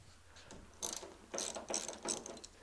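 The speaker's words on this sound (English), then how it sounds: "I've got the 1/2-inch socket and wrench out, I might as well go ahead and take these side handles off too" A socket wrench ratchet clicks in four quick close bursts while removing bolts from a 1943 Willys MB jeep's tub, a crisp metallic rapid clatter with short pauses between strokes.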